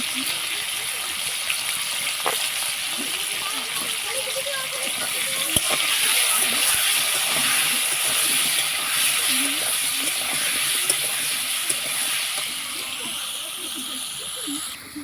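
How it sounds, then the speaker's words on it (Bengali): Potatoes fry in hot oil with salt and turmeric, making a loud, steady, broad sizzle with occasional pops, while a voice talks at times over it. "আলুটা ভালো করে ভেজে নিয়েছি"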